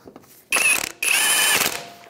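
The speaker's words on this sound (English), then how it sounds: "So with the 17mm socket, we'll go ahead and snug up these bolts." A ratchet with a 17mm socket snugs up the rear brake caliper bolts on a 2007-2013 Mitsubishi Outlander, giving two loud, close bursts of rapid clicking separated by a short pause.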